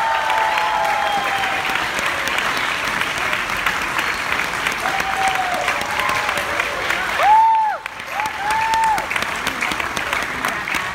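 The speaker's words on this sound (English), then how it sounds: "Could you give them one more big round of applause," Sustained audience applause for the Harvard Pops Orchestra fills a hall, steady and dense, with a few faint whistles and cheers rising briefly near the end.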